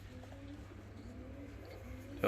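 Ornamental fancy pigeons kept as breeding pairs give low, steady cooing close by, a continuous soft murmur with a sharper sound at the very end.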